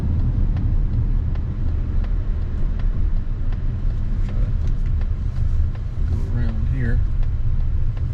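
A Mazda CX-90 plug-in hybrid rolls along slowly in EV mode, with almost no engine sound and only a low, steady road and tyre rumble in the cabin. A voice speaks briefly.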